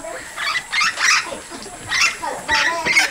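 A dog at a rural family home gives short whimpering yips in repeated bursts, close and moderately loud, with faint voices nearby.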